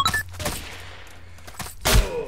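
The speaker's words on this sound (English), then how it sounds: "Let's shotgun this." Shotgun blasts in the blocky first-person shooter Ace of Spades, a sharp close shot near the start and another loud, booming one near the end, with lighter clatter and faint game sounds between.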